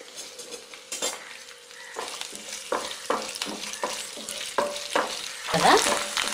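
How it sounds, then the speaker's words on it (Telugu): Cumin, curry leaves and dried red chillies fry in hot oil for a bitter gourd stir-fry, a close crackling sizzle broken by repeated metal spoon scrapes and clinks against the pan, swelling into a louder burst near the end. "ఆయిల్ వేడైంది కాబట్టి దీనిలో మనం పోపు దినుసులు వేసేద్దాం. జీలకర్ర, కరివేపాకు, ఎండుమిర్చి, పోపు దినుసులు అన్నీ"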